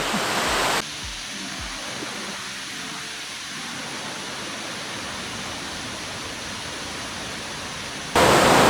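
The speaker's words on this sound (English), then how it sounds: "Waterfall." A waterfall in Maligne Canyon, Jasper National Park, roars as a constant broadband rush of wild water, heard louder at the start and end and slightly muffled in between, with no talking.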